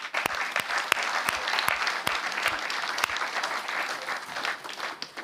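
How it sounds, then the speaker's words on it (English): A conference audience on risk management claps steadily, a dense wash of hand claps with a few sharper nearby claps standing out, continuous throughout without voices. "I think they all deserve a round of applause again"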